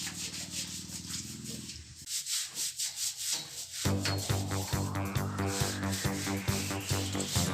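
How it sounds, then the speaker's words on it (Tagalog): Sow being scrubbed with soap and body scrub after giving birth, heard as continuous close rubbing and scraping strokes that grow busier and more rhythmic partway through. "Nililinis din siya ng sabon at body scrub para matanggal ang mga dumikit na mga dumi sa katawan"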